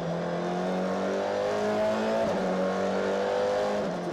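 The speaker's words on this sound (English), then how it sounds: "Just listening to the throttle application out of turn 2 there" Race car engine roaring steadily as it accelerates out of turn 2 at Zwartkops Raceway in Sasol GTC racing, a loud sustained drone with a slight pitch dip midway, heard close without commentary.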